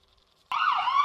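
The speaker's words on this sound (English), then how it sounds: "The ambulance." Toy ambulance siren, a short electronic wail that starts abruptly after half a second of quiet and stays loud and close for the rest of the moment.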